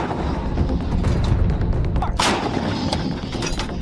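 Loud, rumbling blasts of a howitzer artillery gun firing, dense and continuous with a sharp burst midway, no talking.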